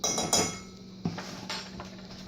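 A spoon scrapes and clinks against a bowl while Ceylon cinnamon is stirred into oatmeal, with a few sharper knocks among softer scraping, close and fairly quiet with no talk.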